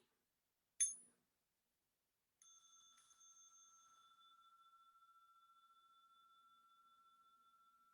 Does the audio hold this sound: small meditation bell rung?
yes